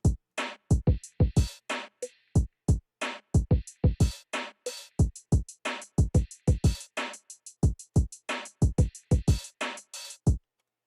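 Boom bap drum beat played without the bass, a steady loop of punchy kicks, snares and crisp hi-hats in a repeating pattern, clean and alone.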